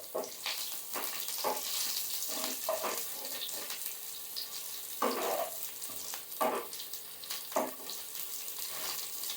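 Onions fry in a pan with a steady sizzle, broken by several bursts of stirring and scraping, fairly quiet and close with no talk.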